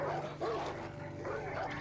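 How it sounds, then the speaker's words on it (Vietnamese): Dogs barking and yipping near a church in the video game Far Cry 5, busy overlapping barks with a whimpering tone over a steady low game hum, fairly loud and close. "chó mèo. Ồn ào quá đấy."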